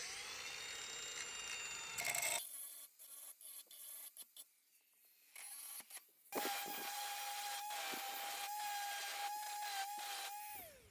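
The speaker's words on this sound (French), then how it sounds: "Donc là on va finir avec un disque à ébarber." A grinder fitted with a deburring disc works aluminium, rasping and whining in uneven bursts that start, stop and resume with a sustained high tone near the end.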